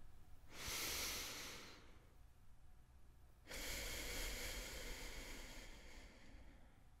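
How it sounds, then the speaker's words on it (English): Two long, deep breaths during a quiet pause, the first a brief inhale and the second a longer, fuller breath. Both are close and breathy, with no talking. "Will you pause and take a breath with me?"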